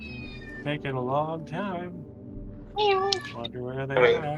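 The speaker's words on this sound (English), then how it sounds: "Sorry, that is my cat." A pet cat meows loudly several times in a row, its drawn-out, pitch-bending cries mixed with a person talking nearby.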